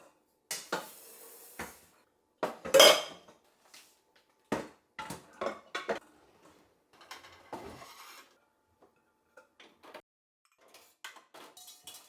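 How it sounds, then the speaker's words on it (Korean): Pots and metal kitchenware are shifted and stacked into a kitchen drawer. Close, intermittent clinks, clanks and clatters sound, with one loud metallic crash early on and lighter knocks following at irregular intervals. "근데 아무래도 냄비 같은 걸 넣어야 될 것 같아서 다시 정리하려고 합니다"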